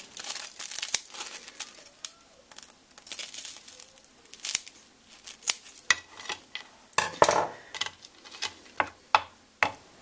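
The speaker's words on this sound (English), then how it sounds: "Your oval of bread, you just want to cut a zigzag across half of it." A knife saws a zigzag through an oval slice of toasted bread, giving crisp, irregular crunching and scraping strokes, close and dry, growing denser toward the end.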